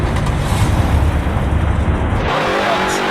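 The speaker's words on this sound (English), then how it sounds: "now here is the sound for the limited strip weathers car" The limited Strip Weathers car engine in the Roblox game Greenville, a loud, deep, rumbling roar held steadily for over two seconds before cutting off abruptly.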